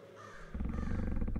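Crows caw in Cube Escape Paradox, a quick burst of harsh, repeated calls swelling after a short quiet start, loud and close.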